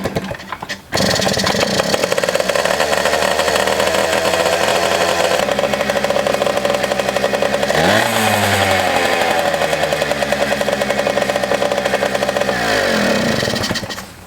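A Yamaha PW80 dirt bike starts with a sudden burst and then runs loud and close, its small two-stroke engine buzzing steadily with one rising rev in the middle before it drops back to idle.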